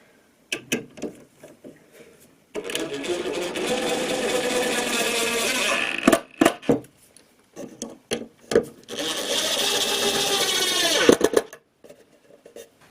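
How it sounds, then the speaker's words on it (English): A power drill drives screws to fix a 2x2 wooden runner to a DIY extending dining tabletop: two sustained whirring bursts of several seconds each, framed by short clicks, knocks and handling sounds. "I can now put some screws in to temporarily fix the 2x2 runner to the tabletop"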